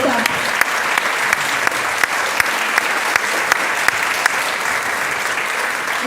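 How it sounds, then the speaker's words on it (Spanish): A large congress audience gives loud, sustained applause, a thick continuous wash of clapping with a few sharper claps popping out near the front, lasting several seconds without speech. "Y quiero que la recibamos con un muy fuerte aplauso, Cecilia Di Sumo."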